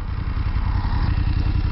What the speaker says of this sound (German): Auspuff blubbert gemütlich.